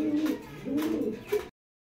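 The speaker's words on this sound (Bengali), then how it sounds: "দর্শক দেখেন মাশাল্লাহ, অনেক সুন্দর এক জোড়া জিএনএস কবুতর।" A pair of GNS racing pigeons coo up close in a few rolling phrases, the last one sharper, before the sound cuts off into silence.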